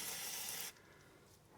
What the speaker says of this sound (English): Let's just spray everything we see.